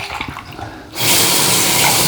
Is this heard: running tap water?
yes